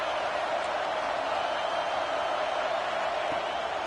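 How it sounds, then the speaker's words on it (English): A broad crowd roar fills a football stadium in a college football video game, steady and sustained without peaks, like cheering behind the defense on a big third down. "Big third down as the crowd gets behind this defense."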